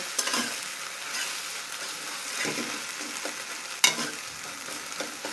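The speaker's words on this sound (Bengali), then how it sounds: "বেশি ভাজবো না ডিমকে, হালকা কালার চলে আসলে আমরা নামিয়ে নিব" An egg frying lightly in a pan for homemade egg momos, a soft continuous sizzle punctuated by a few spatula stirs and one sharp clack, close and moderately quiet with no voices.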